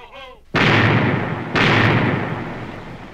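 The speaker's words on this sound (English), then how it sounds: "there's the sound of adventure. Cannon firing. Must be a pirate force attacking a fort." Two heavy cannon blasts from a pirate galleon's broadside against a fort, about a second apart, each a loud booming burst with a long rumbling decay, following a brief stretch of singing.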